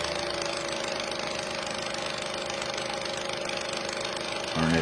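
A Revere Model 80 8mm film projector runs with a steady mechanical hum and rapid rhythmic clatter, close by, with a slight rise in loudness at the very end.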